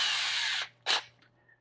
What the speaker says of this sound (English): I want to go ahead and drill through holes